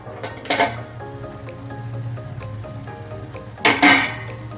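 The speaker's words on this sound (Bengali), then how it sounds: "ঢাকনাটা খুলে এটা হলো দেখি" A lid lifted off a cooking pot of bottle gourd ghonto with milk powder, two clear metallic clinks at the start and another pair near the end, over a low steady background hum.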